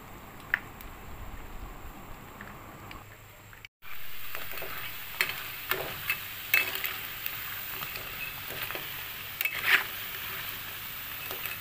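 Anchovy and onion fritters fry in hot oil with a constant close sizzle scattered with sharp crackles and pops, briefly cut off once before resuming, with no one talking.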